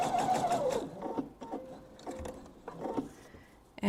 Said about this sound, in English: And sew all the way down the second short side.